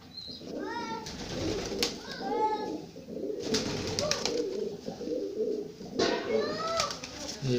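Pakistani pigeons coo in soft, repeated rolling calls close by, several birds overlapping, with rustling and low background noise between the calls.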